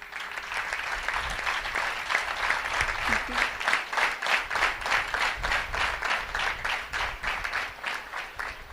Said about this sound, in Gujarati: કેટલાય તાળી પાડી